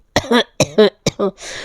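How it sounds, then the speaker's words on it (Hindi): A woman with a bad cold coughs in three harsh, separate bursts, close and loud, then exhales, in a home kitchen while cooking. "मुझे खांसी जुकाम बहुत ज़्यादा हुआ है"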